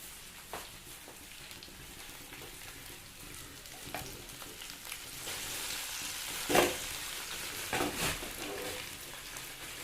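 Karimeen pearl spot fish frying in oil with curry leaves, a continuous crackling sizzle that swells louder toward the end with a few sharp spatters, no voices.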